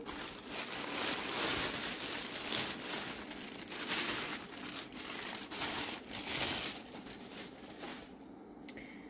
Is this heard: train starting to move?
no